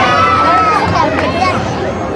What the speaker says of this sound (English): make some noise in that yellow cheering section for the Hollywood Hulk Hogan